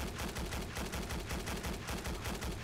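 Rapid automatic fire from a BAR M1918A2 rifle in Fallout 4: a steady, dense stream of sharp, punchy shots at an even rhythm, with no pauses and no talking.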